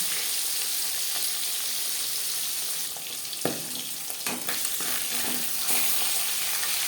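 Katla fish frying in a pan, a steady hiss and sizzle of hot oil throughout, with a few brief clinks and stirring knocks midway; no talking.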